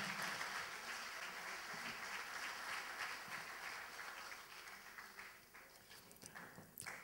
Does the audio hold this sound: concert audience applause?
yes